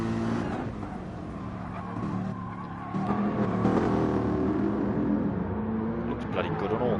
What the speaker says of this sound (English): it's got to be the Mercedes. It just sounds heftier and bulkier than anything else out on track.